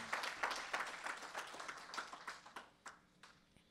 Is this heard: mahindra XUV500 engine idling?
no